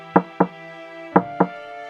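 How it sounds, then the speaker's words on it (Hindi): A cartoon door gets knocked on, two sharp wooden raps, a short pause, then two more. Each rap rings briefly with a hollow tone, and there is no speech. "गुड्डू अपनी प्लानिंग के मुताबिक चील के घोंसले के पास जा बैठा और दरवाजा खटखटाने लगा।"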